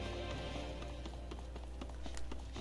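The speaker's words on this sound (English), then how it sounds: "Horses" Horse hooves clip-clopping in the video game Tales of Arise, a steady run of light, quick hoof taps over a low constant game hum.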